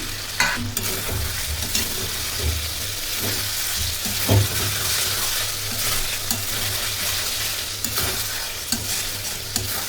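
Chicken masala being stirred in a pan after half a spoon of black pepper powder goes in, steady scraping and stirring over a low, continuous sizzle with occasional sharper clinks of the spoon.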